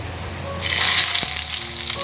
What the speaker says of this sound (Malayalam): എന്നിട്ട് കുറച്ച് വെളിച്ചെണ്ണ ഒഴിച്ചിട്ട് കടുക് താളിക്കണം